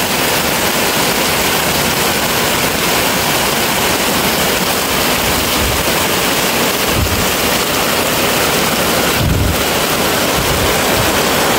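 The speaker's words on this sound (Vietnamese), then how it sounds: "ông trời ông cho một cây mưa cũng khá là lớn luôn nè bà con" Heavy early-season downpour at Phụng Hiệp, Hậu Giang, a loud dense roar of rain that stays constant and unbroken throughout, with no voices.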